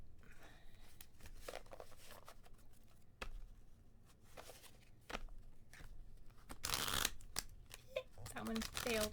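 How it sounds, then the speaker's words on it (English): A deck of playing cards is shuffled by hand several times, giving dry riffling and crackling bursts, the loudest near the end, with soft handling noises between them. "I'm just going to shuffle them and pull one off the top"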